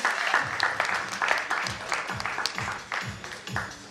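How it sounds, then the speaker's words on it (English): At an education summit session, the audience gives a round of applause after a memento presentation, a dense, steady patter of many hands clapping at moderate distance, with some voices underneath. "Big round of applause."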